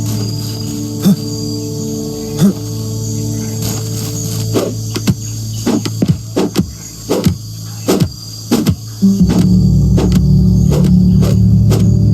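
Swarming bees buzz in the video game Blind Descent as a steady droning hum, with a series of sharp clicks and taps over it and a louder, fuller drone near the end.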